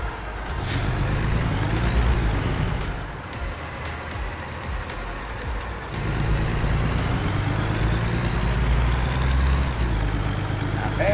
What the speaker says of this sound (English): As you hear my air brakes release.